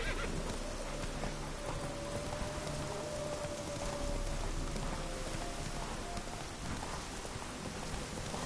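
Horse hooves clip-clop steadily in The Witcher 3: Wild Hunt, a horse ridden through falling rain, the hoofbeats faint and mixed into a constant hiss of rain on the ground.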